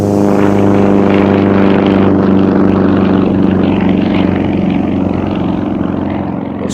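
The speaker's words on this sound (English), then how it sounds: "apply full maximum power, and then move the stick forward to get the tail flying" A Yak-50 aerobatic aircraft taking off at full power: a loud, steady propeller and radial-engine drone with strong harmonic hum, close and continuous, fading slightly at the end.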